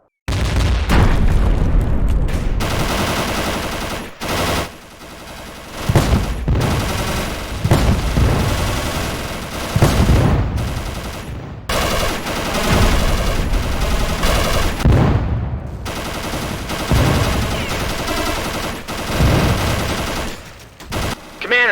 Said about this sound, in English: All guns, fire.